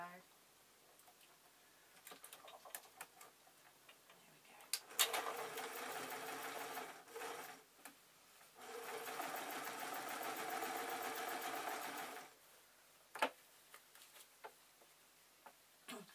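A sewing machine stitching an owl-shaped fabric doorstop runs in two steady whirring bursts with a short pause between, set off by quiet ticks and clicks of handling before and after.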